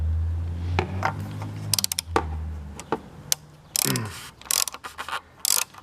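The oil filter housing on a Jeep Grand Cherokee 3.6 is hand-tightened in quarter turns as the new seal seats, giving faint plastic creaks, scrapes and clicks with a brief low hum at the start.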